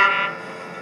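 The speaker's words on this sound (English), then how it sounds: "That foghorn is so loud it rattles my dome." A loud foghorn in Misty Valley blasts a single deep, steady tone that starts strong and fades after a fraction of a second.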